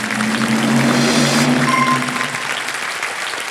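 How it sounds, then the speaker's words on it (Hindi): Studio audience applause on the Hindi TV quiz show Kaun Banega Crorepati, a dense steady roar of clapping that fades slightly toward the end. "ताली बज जाए"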